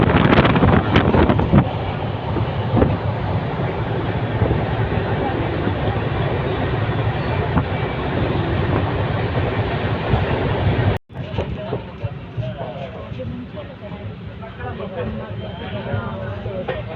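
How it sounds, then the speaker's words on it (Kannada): Panchaganga Express 16595 running at speed, a steady loud roar of wheels and wind buffeting the microphone throughout, with a brief cut near the middle before the rushing continues slightly quieter. "ಸ್ಪೀಡಲ್ಲಿದೆ ಟ್ರೈನ್."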